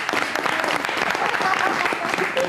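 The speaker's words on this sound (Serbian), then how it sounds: "Ma još jedan aplauz." A studio audience on a Serbian talk show applauds in a burst of dense, lively clapping, with voices mixed in over the clapping.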